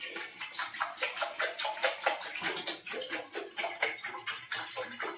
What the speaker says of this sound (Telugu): దీంట్లో మనం వాటర్ వేసుకుంటున్నాను